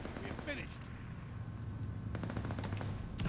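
Rapid bursts of gunfire crackle in Call of Duty: Vanguard, with a loud clustered volley near the end, and a person talks over the shooting throughout.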